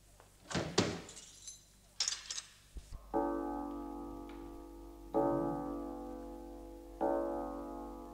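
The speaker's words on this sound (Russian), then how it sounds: "Запирайте двери, Катюша." Keys jangle and metal clicks sound close by as doors are locked, followed by three sustained tonal sounds that start one after another, with no talking.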